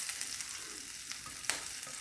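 Cumin and spices fry in hot oil with a steady, bright sizzle, close by, plus a few faint stirring scrapes as the masala cooks over low heat.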